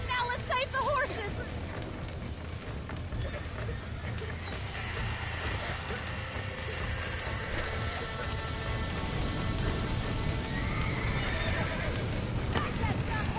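Horses in the Red Dead Redemption game neigh and whinny over hooves clip-clopping, with rushing sound and a voice talking over the action throughout.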